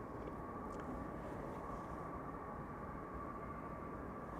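A Delta Air Lines Airbus A330 at Amsterdam Schiphol Airport gives a steady, broad jet roar, heard from a distance with no break.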